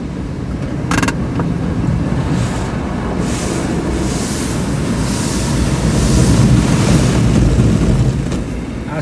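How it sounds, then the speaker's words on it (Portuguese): An automatic car wash starting up around a car in Toyohashi, heard from inside the vehicle: a steady loud wash of spraying water and machinery rumble, with a sharp clunk near the start and surges of hissing spray as it proceeds. "Agora vai começar a lavagem."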